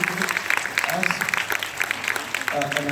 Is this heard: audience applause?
yes